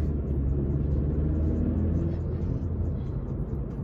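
A manual car's engine rumbles low and steady from inside the cabin as the driver shifts into second gear, a dense idle-to-cruise drone with slight dips and no talk.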